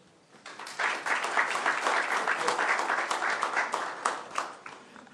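Applause at an ICC Cricket World Cup press conference, honouring the player behind the 1983 title: a crowd of hands claps steadily for a few seconds after a quiet start, then tapers into scattered claps.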